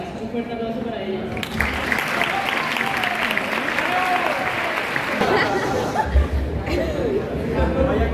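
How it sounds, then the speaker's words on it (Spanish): Warm audience applause fills a school graduation ceremony for fourth-year ESO students, a dense continuous roar of clapping mixed with crowd chatter, and a voice speaking partway through. "Un fuerte aplauso para ellas."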